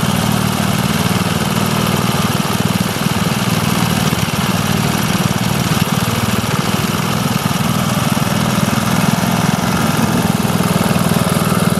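A Briggs and Stratton 3 HP petrol engine on a lawn mower runs on E10 fuel, a loud, steady, close-up drone with a rapid low firing rhythm and no change in pace throughout.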